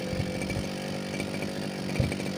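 A gasoline grass cutter engine idles in a short burst, a steady buzzing drone with rhythmic sputters and a couple of louder pulses, close and fairly quiet, no talk.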